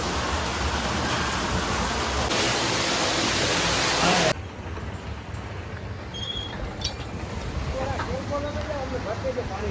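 Loud, steady gush of water pouring out of a borewell pump for about four seconds, then it cuts off abruptly to a quieter background with voices.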